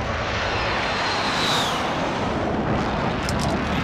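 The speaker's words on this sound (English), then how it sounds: "Friendly precision airstrike inbound." A precision airstrike in Call of Duty: Modern Warfare, where a loud, continuous roar of jet engines and rumbling blasts fills the whole stretch with no let-up, and a higher whine sweeps past partway through.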